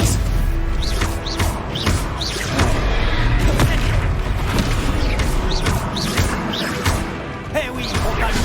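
Repeated booming blasts and crashes from the Confringo fire spell in Hogwarts Legacy, exploding at a fast, irregular pace under constant spoken French and game sounds.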